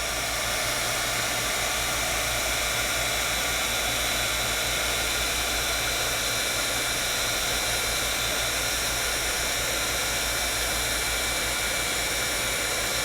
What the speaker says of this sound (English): Sizzix heat tool does wonders.